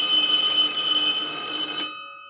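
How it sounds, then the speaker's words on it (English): A ship's emergency muster alarm sounds as a loud, continuous high electronic tone with sharp harmonics, holding steady for almost two seconds before cutting off abruptly and leaving a faint ringing tail. "Josie, if you can, get the alarm sound for them."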